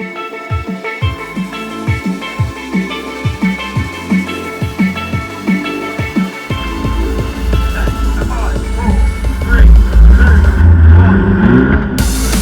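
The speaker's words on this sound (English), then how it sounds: "The start light turns green and the D-Max enters the rally." An Isuzu D-Max rally vehicle launches off the start line of a boggy stage, with loud engine revs climbing through repeated gear pulls and building to a heavy, roaring drive with wheelspin near the end.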